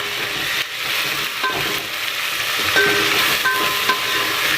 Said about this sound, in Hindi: और हम इसको अदरक लहसुन का पेस्ट डालेंगे। 1-2 मिनट तक भून देंगे।